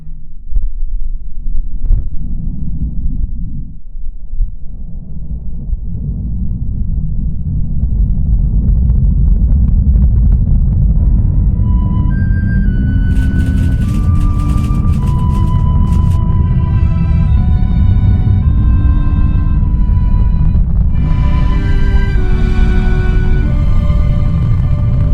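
A rocket lifts off at ignition, a deep building rumble that swells into a loud, sustained roar with rising crackle and higher tones layered on top, continuous and strong through to the end.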